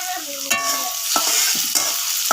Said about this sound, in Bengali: তেল গরম হওয়ার পর দিয়ে দিলাম পেঁয়াজ কুচি এবং রসুন কুচি।